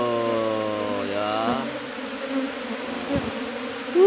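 Honey bees buzz steadily and close around a nest under a tree, the pitch shifting as they move about, with no voices.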